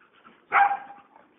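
A dog fighting a chicken gives a single sharp bark, close and fairly loud, against a quiet background.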